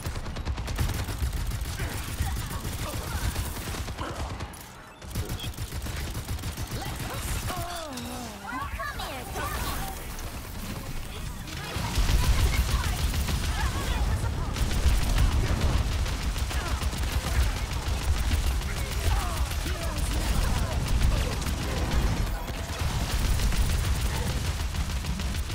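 Gunfire in Overwatch 2 crackles in dense bursts of rapid shots and booms throughout, with a player talking over the chaotic firefight.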